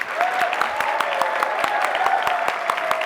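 Audience applause at a conference arena session on innovative learning, a steady dense wash of clapping with some sharper individual claps standing out, close and loud throughout.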